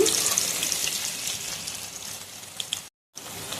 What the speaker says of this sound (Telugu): ఫ్రైడ్ ఆనియన్స్ కోసం ఆనియన్స్ వేసాను, ఎర్రగా వేయించేసుకోవాలి.